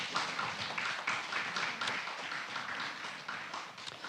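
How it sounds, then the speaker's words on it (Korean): Audience applause in a Jeungsando religious gathering, steady dense clapping sustained throughout at moderate volume, with no voices over it. "큰 박수 부탁드리겠습니다."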